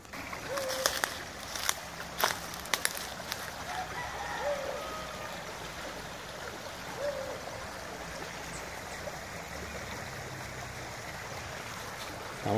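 Steady broadband rush of the Cañaveralejo river flowing at the edge of a neighbourhood, heard as a continuous moderate wash from start to finish, with a few faint clicks and distant voices in the background.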